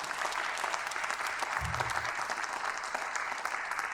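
Audience at a high school fall concert claps steadily and loudly, a dense continuous wash of applause lasting the whole stretch, with a brief low voice surfacing midway.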